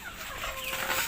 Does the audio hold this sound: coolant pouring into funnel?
no